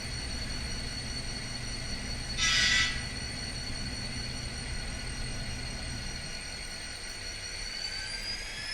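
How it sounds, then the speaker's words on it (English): An N-scale SD40-2 model locomotive with an ESU LokSound decoder sounds its brake squeal, a short high screech over a steady diesel engine rumble, with no talking. "You get the brake squeal automatically in there."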